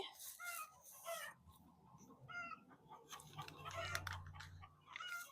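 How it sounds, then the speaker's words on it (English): Chickens clucking and squawking in bursts nearby, fairly loud and busy, with some low background rumble and no talking. "Chickens are being super loud today."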